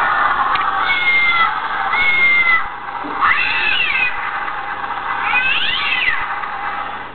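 Animated Halloween cat prop giving repeated electronic meows and yowls in bursts, close and fairly loud, with no talking.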